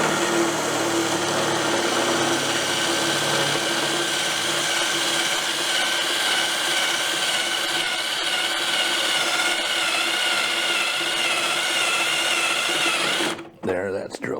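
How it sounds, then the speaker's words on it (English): A power drill bores out a rusted bolt, holding a steady, continuous whine for about thirteen seconds before cutting off abruptly near the end, with no talk over it. "That's what you do with rusted bolts, folks. You drill them out."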